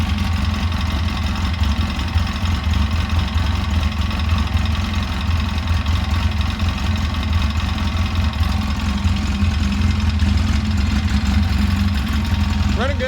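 A car engine idles steadily after a throttle cable adjustment, a close, even low rumble running throughout without revving.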